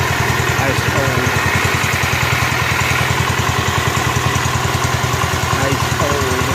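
A rebuilt Kohler K241 engine on a John Deere 210 lawn tractor runs at a steady, loud idle with a fast, even chugging pulse, close up, with a voice occasionally heard over it.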